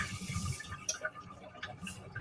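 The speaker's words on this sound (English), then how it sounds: "So I'm going to toss this water out here." Water is tipped out of a cooking pot in a home kitchen, giving a soft splashing pour and a few drips, quiet and close, ending in a sudden louder clatter.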